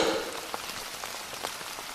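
Evening rain falls steadily beyond a house veranda, a soft even hiss punctuated by a few louder nearby drips and taps, with no voices.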